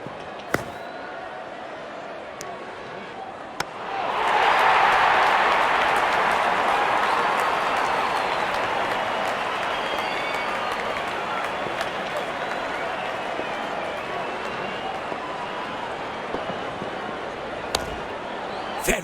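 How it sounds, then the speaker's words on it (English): Crowd applause and cheering in the cricket video game Dream Cricket 25 swells suddenly into a loud, dense roar, then holds steady and slowly eases off across the rest of the stretch. "The crowd is enjoying every bit of this action."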